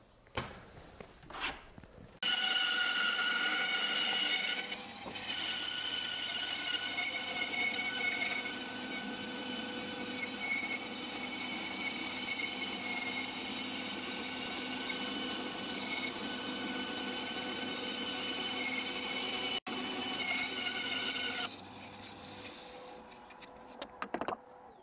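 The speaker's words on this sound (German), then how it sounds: "Also ich finde Kreise schneiden an der Bandsäge" Band saw slowly cutting circles in plywood in a workshop, a continuous whirring machine drone with a steady low hum and a bright cutting hiss, running evenly for about twenty seconds before winding down, with no talk.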